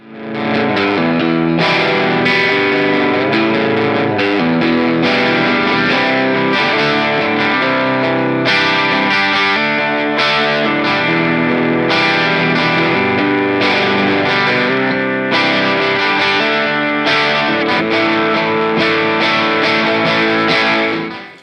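Distorted electric guitar riffs from a Harley Benton Telly through a Mooer preamp, with heavy amp crunch and chorus-like shimmer, playing a steady rhythmic pattern, loud and continuous with no talking.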